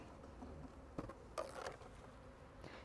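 Robber bees buzz faintly around an absconded beehive, a soft, steady insect hum with a few brief louder passes nearby and no talking.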